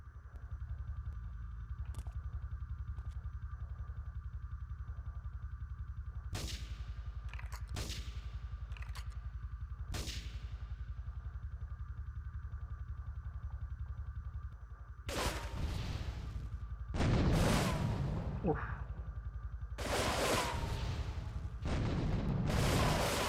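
Gunfire in the video game GTA 3: sharp, loud bursts strike in scattered clusters over a low steady hum, a few spaced single shots early, then denser, heavier volleys near the end.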